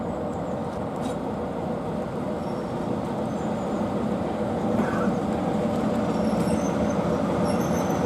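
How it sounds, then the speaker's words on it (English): A train pulls into a platform at Bury Bolton Street station, a steady loud rumble of wheels and engine with faint squeals and some clatter, continuing alone without pause. "The train now arriving on platform 2 is the 10:55 service for Haywood."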